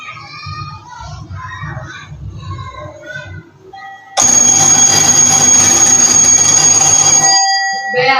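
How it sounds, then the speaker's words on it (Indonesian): An electric school bell rings loud and steady for about three seconds, cutting in abruptly after a stretch of children's voices and chatter, then stops. "Bel sekolahnya udah bunyi."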